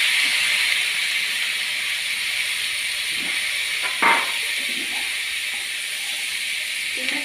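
Peas (payar) dropped into a hot pan with onions, giving a continuous bright sizzle that holds steady throughout, with a brief clatter partway through and faint voice in the background.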